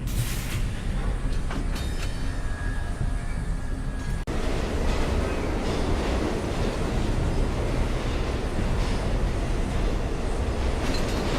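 A subway train rumbles through an underground subway station, a loud continuous roar of wheels and cars on rails with faint clatter, steady throughout.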